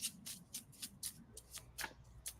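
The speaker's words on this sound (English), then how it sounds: "since I am still shuffling and they're being a little difficult" Tarot cards are shuffled by hand in a run of about ten quick, crisp riffling bursts at an even rhythm, soft and close with no talk over them.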